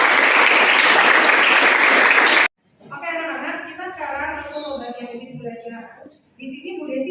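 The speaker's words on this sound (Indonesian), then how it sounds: "Boleh kasih tepuk tangan dulu." Students in a secondary-school maths class break into loud, dense applause for a few seconds; it stops abruptly and a teacher begins talking.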